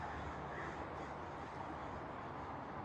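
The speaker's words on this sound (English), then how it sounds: "those birds were flying over me and like making so much noise" Crows caw as they fly overhead, their calls mixed into a dense, steady wash of outdoor noise at a moderate distance.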